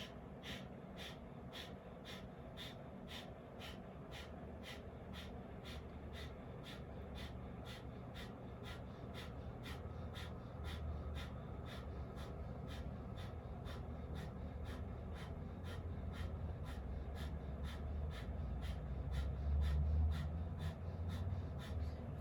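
Paced breathing exercise rounds during an energy healing session: steady, evenly spaced breaths repeat throughout, soft and close, with a low hum beneath that grows slightly louder toward the end.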